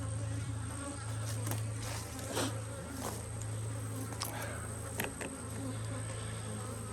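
Honey bees buzz around hives in an apiary, a steady close droning hum with individual bees passing near the microphone now and then, no talking.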